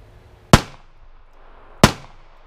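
Two sharp, loud pistol shots from a Smith Model 59 9mm, spaced about a second apart, each with a quick decaying ring, heard alone.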